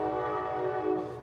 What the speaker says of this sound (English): So you'll hear a little bit of a train action in the background.